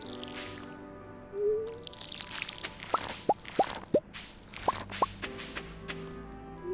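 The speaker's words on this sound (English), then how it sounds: "Go ahead and water our bok choy." Stardew Valley watering can dousing bok choy: a quiet stretch, then six crisp watery plops spaced roughly half a second apart, sitting over gentle game music with no speech.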